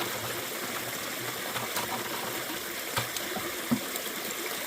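Creek water flows in a steady, close rushing wash with small splashes and trickles, continuous and unbroken throughout.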